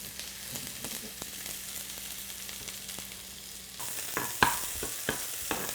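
Onion and carrot fry in oil with a bright, continuous sizzle, broken by a few sharp clinks and scrapes of a utensil against the pan that grow louder near the end, with no talking.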